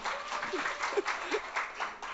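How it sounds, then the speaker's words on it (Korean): Light audience clapping at a business workshop talk, a brief, fairly faint patter of rhythmic claps lasting around two seconds. "박수 한번 치고."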